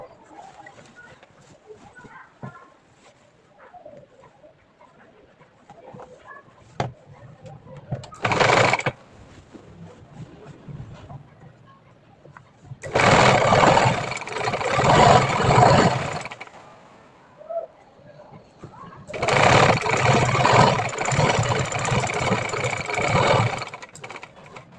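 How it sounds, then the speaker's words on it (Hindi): A domestic sewing machine stitches a salwar seam in three separate runs: a short burst, then two longer steady whirring passages of several seconds each. Quieter handling noises fill the gaps between runs. "अब हम जब स्टिच लगाएंगे तो हम स्टिचिंग यहाँ से स्टार्ट करेंगे"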